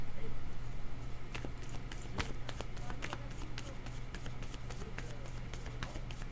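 Tarot cards are shuffled and drawn in a steady series of quick, papery flicks and taps over a low background hum, close to the listener.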